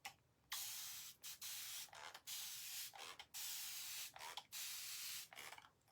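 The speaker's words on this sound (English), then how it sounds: "Spray bottle, water." Repeated bursts of a spray bottle misting water, about eight quick hissing sprays separated by short pauses, close and fairly quiet.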